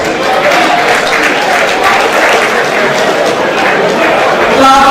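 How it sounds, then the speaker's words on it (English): An audience applauds at a Nigerian agriculture ministry event, a steady mass of clapping throughout, loud and sustained with crowd murmur beneath. "You need to clap for us."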